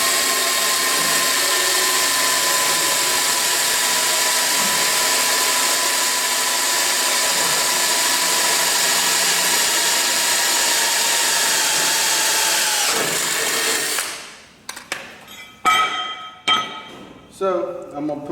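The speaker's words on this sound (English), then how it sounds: "and then I'll drill the other 3 holes." A power drill boring holes in thin steel plate whines steadily at high speed for several seconds, then winds down, followed by a few metallic clinks and knocks.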